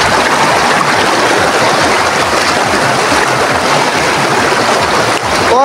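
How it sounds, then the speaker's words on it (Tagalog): Loud, dense rushing water fills the whole clip, a strong river current churning steadily with no pauses or voices. "Oy, malakas yung agos niya oh."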